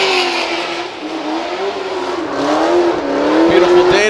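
A Nissan S14 drift car revs hard and slides through a corner during Formula Drift qualifying at Long Beach, its engine note wavering loudly with tire squeal, while a commentator talks over it.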